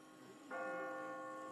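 In The Walking Dead video game, a church bell sounds once with a sudden, sustained metallic ring, fairly faint against a low background hum, with no talking.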